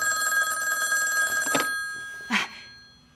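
A telephone rings indoors in a hospital drama scene, two short ringing bursts standing out clearly above the quiet background.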